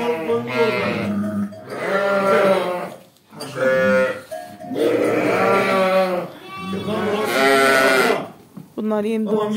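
A ewe and her newborn twin lambs bleat loudly and close by, in long repeated calls with brief pauses between them.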